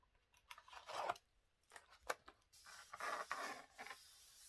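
Crocodile déco decorative-edge scissors snipping through paper, a quiet close-up series of short crisp cuts and rustles, with a longer rasping cut near the end.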